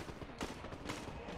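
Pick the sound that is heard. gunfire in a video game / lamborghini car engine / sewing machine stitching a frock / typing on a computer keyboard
gunfire in a video game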